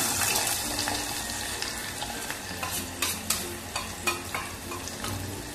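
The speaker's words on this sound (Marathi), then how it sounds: "चांगला परतून घ्यायचा आहे कांदा" Chopped onion sautéing with cumin in hot oil, a steady frying hiss broken by irregular scraping stirs and clinks of a spoon against the pan, close and moderately quiet.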